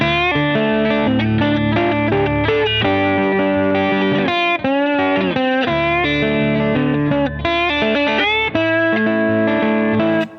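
A lap steel guitar in open D tuning plays a chord-based passage with sliding notes, sounding distorted and effect-laden, steady and loud with no talking.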